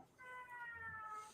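A faint, drawn-out cat meow with a thin rising and falling tone, quiet against a low background hum in a tavern-style tabletop game setting.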